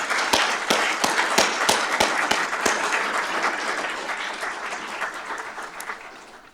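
An audience at a fire and rescue department awards ceremony applauds steadily, a dense wash of clapping with a few sharp, loud claps standing out near the front, gradually easing off toward the end.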